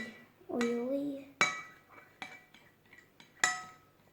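A spoon stirring clear, oily slime in a container, giving sharp clinks and taps against the sides in an irregular rhythm, close and fairly quiet, with someone talking over the first part.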